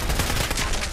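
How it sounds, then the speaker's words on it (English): A shotgun fired in the video game Fallout 4 with mods, a single loud, close burst of gunfire that fills the whole moment with harsh noise. "I think there's something wrong with that shotgun"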